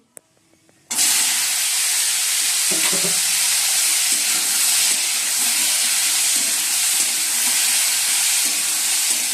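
Potatoes hit hot oil seasoned with nigella seeds in a wok and start frying. After a brief quiet start comes a sudden loud, steady sizzle and hiss that lasts to the end, with occasional stirring scrapes and no talk.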